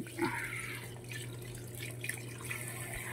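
Water from a tap runs steadily over small crabs being rinsed clean in a kitchen, a faint continuous trickle with light drips and splashes and a low background hum, with no talking.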